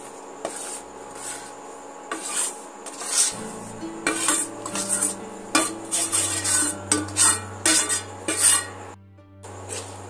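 Fried gram flour being stirred into sugar syrup in a pan over low to medium heat for besan sandesh: steady scraping and rubbing of a spoon against the pan, with light clinks, continuous and close.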